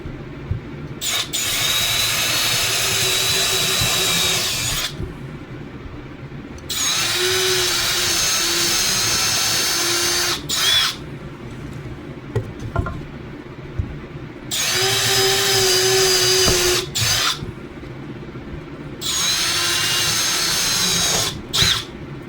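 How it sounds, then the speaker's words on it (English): A loud power drill whines in about five long bursts separated by short pauses, with brief clunks as it bites through two stacked wooden boards. "And, probably drill them all out."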